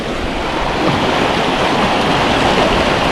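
Water rushing steadily past a bamboo barrier in a river current, a dense continuous wash with no pauses and no voices.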